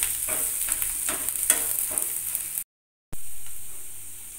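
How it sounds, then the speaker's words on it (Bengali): A spatula breaking an egg omelette into pieces in a frying pan, a run of scraping, tapping strokes over a soft sizzle, close up, then a brief cut to silence before the sizzle resumes. "এবার ডিমটাকে খুন্তির সাহায্যে টুকরো টুকরো করে নেব।"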